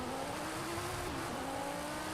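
Audi R8 engine in Forza Horizon 5, a steady loud drone of the racing car's engine holding a nearly constant pitch, dipping slightly midway, close and continuous with no talk.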